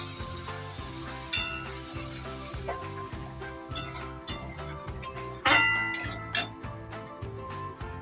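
Spice paste hitting hot oil for tangra fish curry, a steady close sizzle with occasional spoon stirs and utensil clinks, sharper bursts toward the end and no talking.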